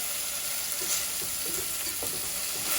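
A warm Cumberland sauce of red currant jelly, thyme, garlic and red wine vinegar is stirred in a pan, a steady sizzle and hiss running throughout with light scraping taps from the spoon.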